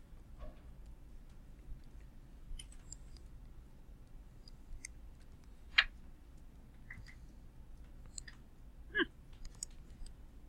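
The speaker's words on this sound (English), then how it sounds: "And then we just type it in our calculator." Fingers tap the keys of a calculator, a sparse series of small, quiet clicks spread unevenly over a near-silent background with no speech.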